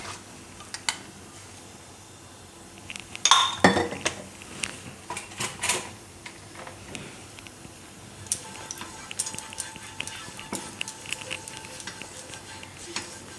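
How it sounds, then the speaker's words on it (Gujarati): A metal tava griddle is set down on a gas stove and greased with a little oil while making puffed-rice pudla, giving a sharp metallic clank midway, then soft scraping and light clatter with a faint sizzle. "તો આપણે તવી ગરમ મૂકી દેવું. આમાં થોડુંક તેલ લગાવી લેવું."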